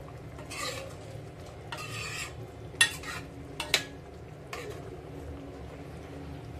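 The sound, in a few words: stirring garam masala into king fish curry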